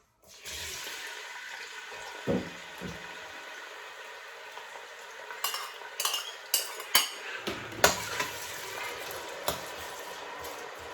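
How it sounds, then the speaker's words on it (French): Chopped onion dropped into hot oil in a pan, a steady frying sizzle with stirring clinks and scrapes of utensil against the pan, close and unaccompanied by talk. "je vais mettre de l'oignon dans l'huile"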